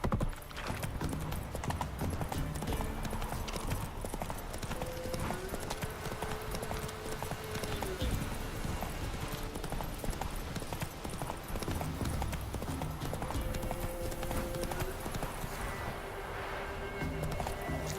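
A horse gallops in The Witcher 3: Wild Hunt game, with rapid, steady hoofbeats running the whole way and soft game music and ambience beneath.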